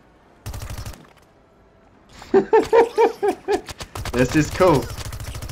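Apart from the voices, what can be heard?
plant firing machine guns in video game Plants vs. Zombies: Battle for Neighborville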